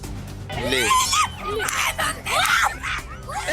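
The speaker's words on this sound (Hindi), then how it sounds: "करीब 12 लोगों को लेकर जा रही नाव के अचानक पलटने से चीख पुकार मच गई।" Frantic screaming and wailing from several people as a boat carrying about 12 people suddenly capsizes on a river in Bhind, Madhya Pradesh; loud, overlapping cries rise and fall continuously throughout.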